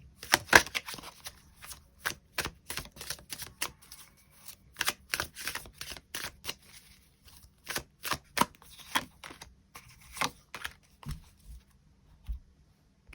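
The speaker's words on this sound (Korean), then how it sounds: "추가 카드로 이번 2024년을 더 행복하게 잘 살아가기 위한 조언의 카드가 무엇이 있을지 추가 카드 뽑아보도록 하겠습니다" Tarot cards being shuffled and drawn: a steady series of crisp, close paper snaps and flicks in uneven clusters, fairly quiet, with no talk.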